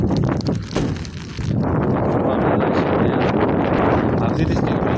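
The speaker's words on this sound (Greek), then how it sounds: "Έχει δυναμώσει αρκετά ο αέρας." Strong wind blowing outdoors, buffeting the microphone in a loud, steady roar that briefly dips before surging again.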